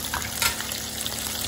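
Chicken skin frying in hot oil gives off a steady, dense sizzle and crackle, evenly loud throughout with no voices.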